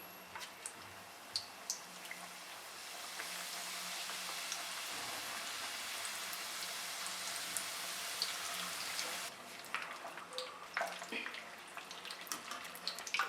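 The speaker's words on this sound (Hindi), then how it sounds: "ऑयल हमारा गर्म हो गया। अब इनको फ्राई करेंगे।" Chicken fajita parcels deep-frying in hot oil, a steady soft crackling sizzle like light rain that carries for most of the stretch, then gives way to scattered pops and clatters near the end, fairly quiet and close.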